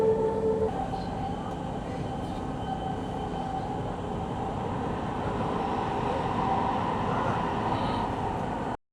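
A Riyadh Metro blue line train rumbles steadily from inside the car, a constant low roar with faint mechanical whine, holding level until it cuts off abruptly at the end.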